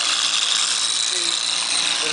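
An electric motor spins a flywheel with a steady, even, high-pitched whir that holds constant throughout, close and fairly loud, with no change in speed.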